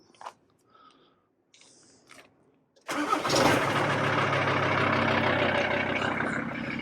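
VW T4 van engine cranks briefly and catches, then settles into a loud, steady idle close by, after a few quiet seconds of faint handling noises.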